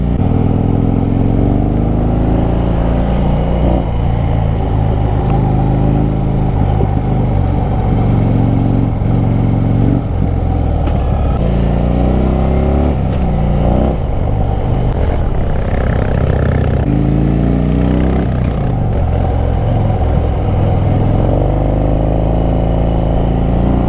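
A Harley-Davidson Fat Bob engine drones loud and continuous while riding on Uttarakhand roads, its low rumble rising and falling with throttle and gear changes, buffeted by heavy wind, with no voices.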